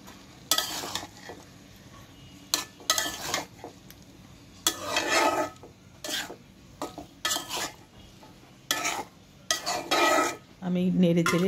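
Dried loitta fish and onions frying over low heat in a pan, stirred in repeated bursts of metallic scraping and clattering of a spatula against the pan, separated by quieter gentle sizzling, close and fairly loud without speech.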